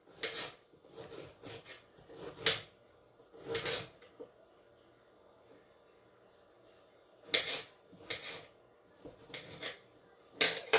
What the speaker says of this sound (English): So I got some ginger root here. I'm just gonna cut a couple slices.